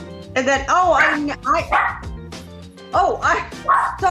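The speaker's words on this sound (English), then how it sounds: "the dog interrupted me" A dog barks repeatedly in loud, close bursts, with yips and whining tones between the barks.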